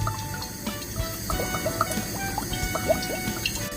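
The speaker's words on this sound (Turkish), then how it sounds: "Dostlar artık ocağın başına geçebilirim. Zeytinyağımı ekliyorum." Olive oil pours into a pot on the stove while a quince dish is made, a continuous glugging trickle with small bubbling drips, close and fairly steady for a few seconds.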